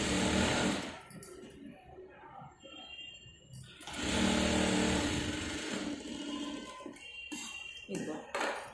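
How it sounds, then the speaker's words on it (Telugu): A sewing machine stitches a blouse in runs of whirring motor hum that start, stop and resume, close and moderately loud, with a person speaking in between. "ఇది ఒకటి స్టిచ్చింగ్ చేసి చూపిస్తాను మీకు."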